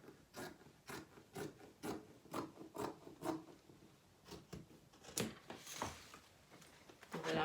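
Scissors cutting freehand through T-shirt fabric, a series of rhythmic snips and rasping crunches about twice a second, close and fairly quiet, with a louder rustle near the end.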